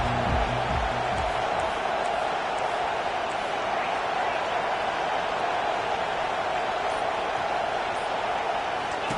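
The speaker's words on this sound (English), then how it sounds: "This crowd bringing an ear-splitting welcome to their visitors." A college football stadium crowd roars and cheers as a steady, loud wall of noise throughout, with a commentator talking over it.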